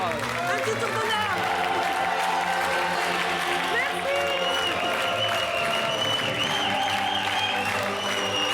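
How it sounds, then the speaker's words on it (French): Sustained, dense applause from a TV game-show studio audience fills the whole stretch, loud and steady, with music and voices running underneath. "Vous pouvez l'applaudir."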